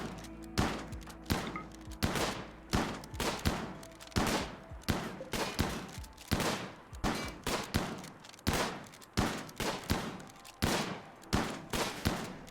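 Repeated shotgun blasts from a Rimworld colony firefight, about sixteen sharp loud reports in a steady, evenly spaced rhythm, each followed by a short decaying tail.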